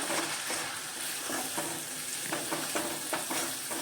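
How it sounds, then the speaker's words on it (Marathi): Two spoons of Kashmiri red chilli powder with ginger-garlic paste and spices frying in oil for pav bhaji: a close, continuous sizzle broken by repeated scraping stir strokes of a spoon against the pan, with no voices. "लाल कश्मीरी मिरची मी दोन चमचे टाकलेले आहे ती आपण आता भाजून घेऊया"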